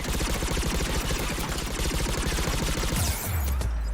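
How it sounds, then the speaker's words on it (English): Anti-aircraft guns in the video game Mass Effect 3 fire in a loud, rapid continuous barrage of booming shots, ending with a heavier deep blast and rumble near the end. "Anti-aircraft guns."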